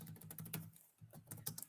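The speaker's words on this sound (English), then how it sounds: "Let me just type this out." Rapid clicking of keys on a computer keyboard, typed in quick irregular bursts with a brief pause midway, close and fairly quiet.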